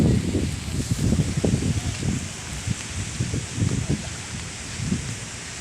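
Strong gusty wind sweeps through a vegetable garden with eggplant and chili plants, leaves and stems rustling in rough bursts, with low rumbling buffets against the mic under the steady roar and no one speaking.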